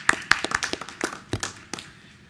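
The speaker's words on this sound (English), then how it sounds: "let's give them a round of applause" A few people clapping briefly at a school board meeting: about a dozen sparse, uneven claps over two seconds, close and fading out rather than a full round of applause.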